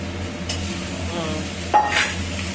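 A spoon scrapes and clinks against a pot while banana-flower curry (mochar ghonto) is stirred, with a few soft brief scrapes and one sharper metallic tap over a low background hum.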